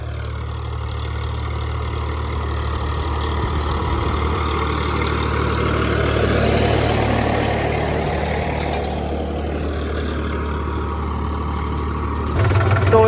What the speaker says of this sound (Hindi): सिंपल ट्रैक्टर होता तो उसको दिक्कत जाती, 4x4 ये अच्छा चल रहा है।